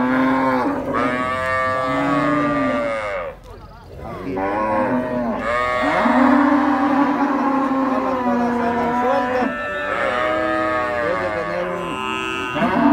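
A large dairy cow at the Santa Rosa de Lima market moos loudly and repeatedly, long drawn-out bellowing calls close by with brief pauses between them.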